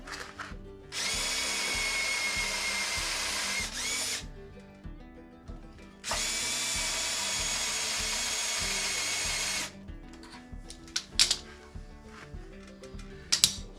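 A power drill with a 7/16 bit bores through an existing hole to mark a rib on a snow pusher, running in two long, loud, steady bursts of high whine. Quieter handling clatter and knocks follow the drilling.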